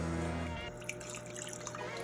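Liquid pours into an oxtail stew while it is stirred, a steady close trickle and splash after a brief opening tone, soft and continuous throughout.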